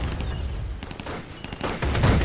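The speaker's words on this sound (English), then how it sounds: "Artillery support is attacking target area." Artillery barrages rumble and crack in a D-Day strategy video game, with a dense run of booming impacts that swells louder toward the end.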